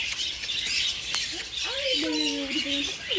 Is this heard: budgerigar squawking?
yes